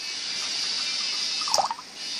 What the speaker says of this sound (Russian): Я взяла обычных 2 стакана, наливаю туда обычную фильтрованную воду